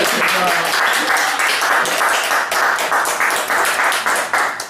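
An audience claps at the close of a Korean newsletter talk show, a steady stretch of clapping that fades out at the end, with voices mixed in.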